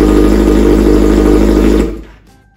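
A Kawasaki ZX6R sport bike fitted with a carbon Kevlar exhaust idles close by, not yet warmed up, a loud steady engine drone with a fast throb that cuts off sharply near the end and fades into quiet.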